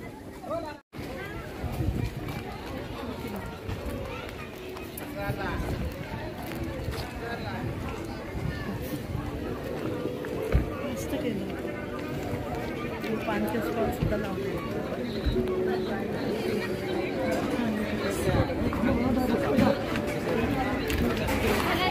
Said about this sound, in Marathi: भरपूर गर्दी बघा मित्रांनो, गर्दी बघा किती.